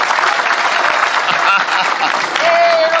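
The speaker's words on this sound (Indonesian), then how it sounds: "Tepuk tangan untuk Bung Rocky." An audience at a Kenduri Cinta gathering claps in a dense, steady burst of applause, loud and close and filling the whole moment, with a faint voice underneath.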